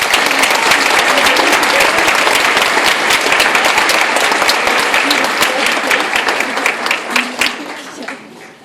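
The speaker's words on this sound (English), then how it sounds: "Let's give them another round of applause." Dense, sustained applause from an audience at a school promotion night ceremony, loud and steady for most of the stretch before thinning into scattered claps and fading near the end.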